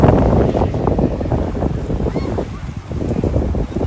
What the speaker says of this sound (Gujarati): પાણીના લેરકી આવે પવનની